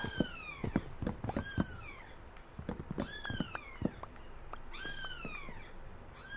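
A cat meowing in Minecraft, several clear separate meows in bursts with short gaps, close and fairly loud, no talk.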